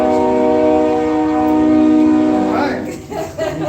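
A train horn blares loud and close in a long sustained chord, then breaks off into rumbling rail noise as the train passes.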